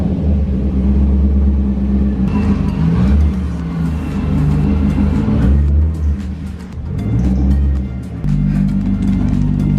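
A C6 Corvette with upgraded brakes drives outside at dusk, its engine rumbling loud and close, with a deep low growl that swells and eases as it moves, with no talk.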